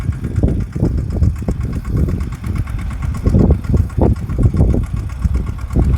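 A mini tractor cuts furrows through a muddy onion field, its engine chugging loudly and close with an uneven, knocking rhythm of repeated low thumps that rise and fall steadily throughout.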